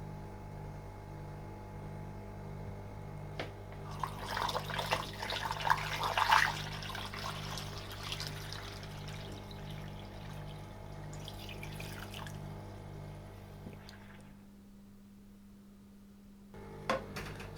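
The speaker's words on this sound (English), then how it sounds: "we now use a funnel connected to a hose to refill water." Water refilling through a funnel connected to a hose into an indoor Kratky hydroponic tomato container, a steady trickle and splash that peaks midway and then stops, over a low constant hum.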